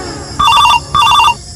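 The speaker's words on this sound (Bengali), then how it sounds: "ও ভাই আমার একটা ফোন এসে।" A mobile phone rings with an incoming call, two short, loud, close electronic ringtone bursts separated by a brief pause.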